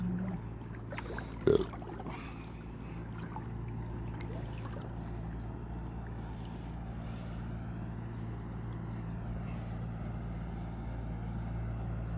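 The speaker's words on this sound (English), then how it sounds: "It's just a tractor, I think, but it sounds like a fucking helicopter landing" A steady low tractor engine drone rumbles throughout, broad and constant, with a brief thump early on; outdoors in the morning in Switzerland.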